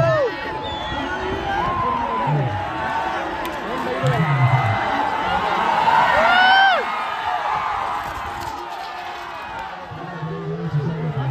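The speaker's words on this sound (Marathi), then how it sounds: "तर गाईज बघू शकता जल्लोष मथुरच्या फॅन क्लबचा." Fans at a bullock cart race during a Maharashtra bullock cart festival cheer and whoop loudly, with rising shouts and yells over a dense crowd roar. Voices chatter throughout.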